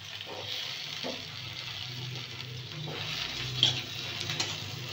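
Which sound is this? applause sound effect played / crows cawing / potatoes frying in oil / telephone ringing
potatoes frying in oil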